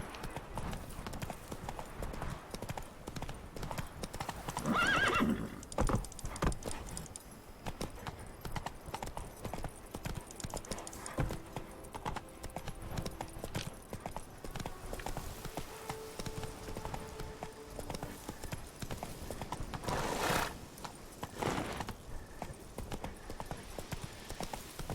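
Horse hooves clip-clopping in The Witcher 3 video game, a quiet continuous trot with rhythmic footfalls throughout, plus a couple of short louder bursts and faint tonal game sounds.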